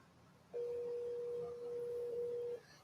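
A steady telephone line tone rings out for about two seconds from a phone that is not working, a single unbroken pitch rising clearly over a quiet background with no talking.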